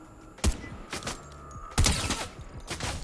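Combat SMG bursts in a solo video game fight, sharp close shots at irregular intervals with a couple of heavier bursts and mechanical clatter between them, no voices.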